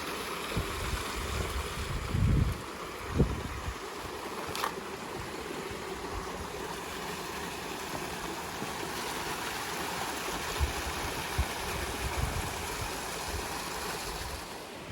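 Steady broadband rush of a creek flowing over rocks on a bush track, continuous and fairly close, with a few low thumps and bumps of movement near the microphone and no talking.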